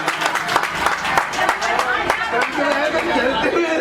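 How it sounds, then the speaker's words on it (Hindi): Studio audience applauding a guest on a Hindi entertainment show, scattered clapping mixed with crowd chatter and loud talking voices throughout. "इनके लिए एक बार जोरदार ताली होनी चाहिए"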